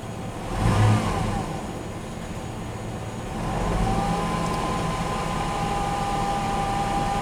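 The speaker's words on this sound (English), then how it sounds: "let's give it a little throttle, watch it peak up a little bit" A car engine revs briefly as the throttle is blipped, swelling near and loud, then settles into a steady raised hum around 1400 RPM, with no talking.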